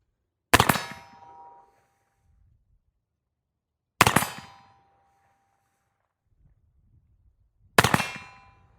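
A silver Remington Sheriff Model revolver with a 5.5-inch barrel fires three evenly spaced shots at a steel target 28 yards away. Each sharp report is followed by a loud ringing clang from the steel, with no talking.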